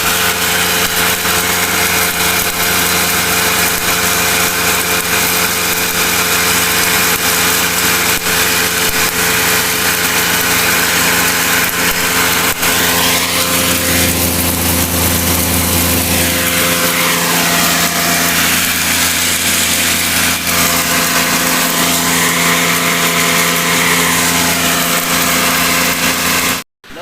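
An electric motor drives a grinder milling daliya (cracked wheat), a loud, steady mechanical whine with a low hum that holds throughout, shifting slightly in pitch midway, then cuts off abruptly at the end.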